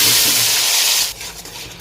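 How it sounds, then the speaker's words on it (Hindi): Ginger garlic paste hits hot oil in a kadai for Lucknow biryani, giving a loud, steady broadband sizzle that drops sharply about a second in and then continues as a quieter hiss. "गर्म हो चुका है जी, अदरक लहसुन का पेस्ट डालेंगे।"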